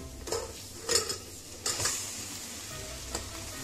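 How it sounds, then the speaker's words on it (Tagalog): Chicken frying in a pan for tinola, with a steady close sizzle and several bursts of stirring and utensil clatter against the pan, no voices. "Pwede na natin ilagay ang ating chicken."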